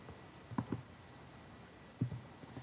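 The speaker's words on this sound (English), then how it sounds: "someone's typing and being annoying" Computer keyboard typing comes in two short bursts of quiet clicks, with a pause between them and another burst near the end. The clicks sit faintly against a steady background hiss.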